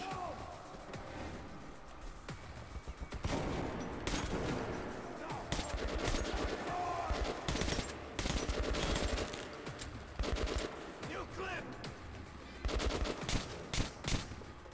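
Gunfire in a firefight in the video game Metro 2033 Redux: dense, loud bursts of shots and rapid automatic fire that keep going almost without a break, with game noise layered beneath.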